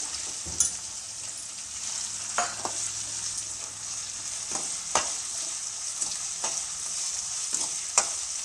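Two medium onions roasting in a pan over a high gas flame for vegetable fried rice: a continuous sizzle broken by sharp spatula scrapes and clacks every second or so, near and alone.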